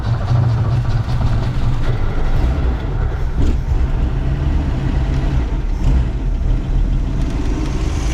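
1961 Ford Falcon station wagon engine running after a restart, running lean, a loud, close, steady rumbling idle with a rough low throb and no clear pitch change, with no talking.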